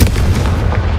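A booming fiery blast from the Confringo spell in Hogwarts Legacy, one dense low-heavy burst filling the short moment, loud and close with no talk.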